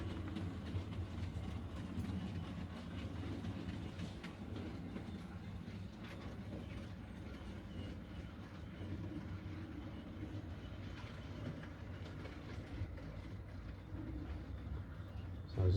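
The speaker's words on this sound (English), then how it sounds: "leaving the station with a rake of freight." A small prairie tank locomotive on a model railway pulls a rake of freight wagons out of the station, giving a steady low rumble and hum that runs throughout at moderate level.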